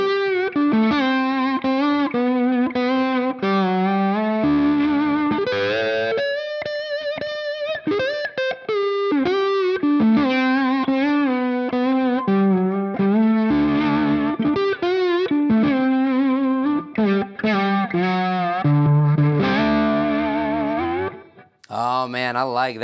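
Distorted electric guitar with Fishman Fluence Open Core Classic pickups, played with a slide: sustained, gliding notes and swooping pitch bends in a continuous phrase, loud and close, with brief pauses and one abrupt change near the end.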